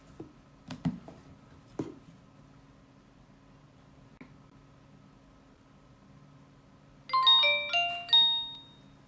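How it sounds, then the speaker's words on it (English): A Nokia 3310 3G mobile phone powers on with a short bright chime melody near the end, preceded by faint clicks and a quiet background hum. "Now let's wait for the phone to power on and check."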